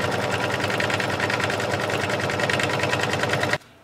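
An embroidery machine stitches background fabric onto a hooped tote panel, a rapid, even mechanical chatter of needle strokes running steadily up close before stopping abruptly near the end.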